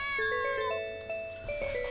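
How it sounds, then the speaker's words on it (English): A cartoonish cat in a video game gives a meow-like call of drawn-out, wavering tones over quiet synthetic background sound, with a couple of short higher notes near the end. "Oh look, it's a kitty."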